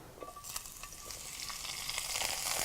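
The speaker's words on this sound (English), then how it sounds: "So stir fry, you want to keep stirring it." Beef and snow peas stir-frying in a hot pan, a steady sizzle with scraping stirring strokes that grows louder toward the end.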